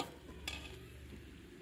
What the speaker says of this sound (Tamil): இது மாதிரி நல்லா கலந்து விட்டுக்குங்க